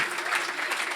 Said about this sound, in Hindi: जोरदार तालियां यीशु मसीह के लिए और कलाम के लिए